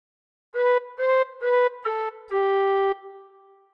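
A tin whistle plays a short phrase from We Wish You a Merry Christmas of five clear notes, four brief ones followed by a longer held note, solo and close.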